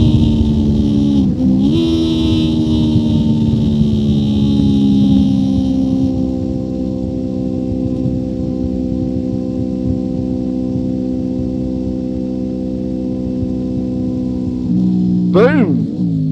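A 1999 Honda VFR sports-touring motorcycle lapping the Nürburgring Nordschleife, its engine holding a loud, steady drone close by with a brief rev dip early on and a sharp rising rev near the end, while a rider talks over it.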